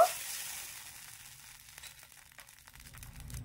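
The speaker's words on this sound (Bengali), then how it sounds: "এখানে কড়াইটা খুব ভালোভাবে গরম করে নিয়েছি। এবারে তেল আর জলের মিশ্রণটা লাগিয়ে নেব।" An oil and water mixture sizzles in a well-heated wok, a soft, steady hiss after a brief initial burst, faint and alone.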